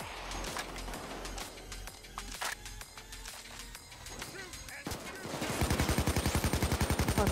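Gunfire in the heist shooter Payday 2: scattered sharp shots crack through a busy game mix, then a loud, steady burst of rapid automatic fire rattles on to the end.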